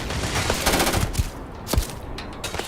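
Pistol gunfire in the video game Starfield: a loud burst of several quick shots with sharp reports and rolling echoes, set against a dense background.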